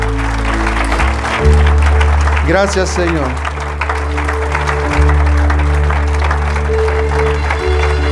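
A church congregation applauding after a closing prayer, with steady clapping lasting several seconds under sustained organ or keyboard chords, while a voice speaks over it.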